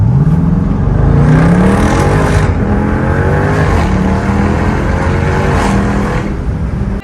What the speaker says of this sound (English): Somebody was gonna tell me there's a car behind me